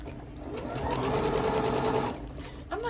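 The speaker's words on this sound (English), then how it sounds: "I think we've just got one more line to stitch." A sewing machine stitches a line across a Liberty fabric Sparklers quilt, running in a steady, close mechanical whir that rises, holds for about a second, then slows and stops.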